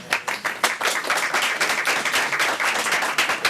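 Applause from an audience at a school board of education meeting after a motion is made, a dense burst of many hands clapping steadily throughout, fairly loud and close, with no talking over it.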